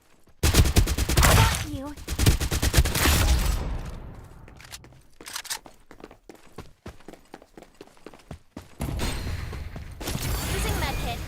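Rapid bursts of automatic gunfire crackle during a Farlight 84 match, dense and loud at first and then thinning into scattered shots and footsteps, with a player speaking briefly over the action.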